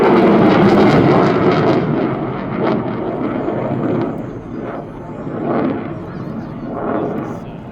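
A display aircraft, flown by pilot Tom Nation, performs vertical rolls at an English Riviera airshow, its engine roaring loudly at first, then surging and fading in repeated swells as it climbs away, with a voice talking over it.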